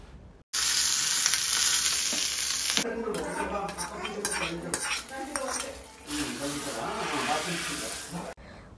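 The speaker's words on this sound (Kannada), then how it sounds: "ಸ್ವಲ್ಪ ಎಣ್ಣೆ ಜೀರಿಗೆ ಸಾಸಿವೆ ಕೆಂಪು ಒಣಮೆಣಸಿನ್ಕಾಯಿ ಅದನ್ನೆಲ್ಲ ಹಾಕಿ ಸ್ವಲ್ಪ ಒಗ್ಗರಣೆ ಕೊಟ್ಕೊಂಡೆ" Loud, steady sizzling of mustard seeds, cumin and dried red chillies hitting hot oil, crackling and popping throughout, with occasional clinks of a utensil against the pan.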